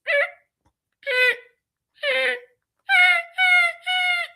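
A human voice imitates a beaver's call with six short, whiny, nasal squeals, each separated by a pause, the last three coming closer together, loud and close with nothing else heard.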